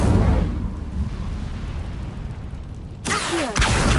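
Incendio fire spell cast in a Harry Potter video game: a loud, sustained roaring burst of fire that rumbles for about three seconds, then a sharp crackling flare near the end.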